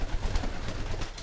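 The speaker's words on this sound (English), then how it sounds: "they're just plain old wild pigeons" Wild pigeons coo softly and continuously near a backyard loft, a low murmuring burble with no talk over it.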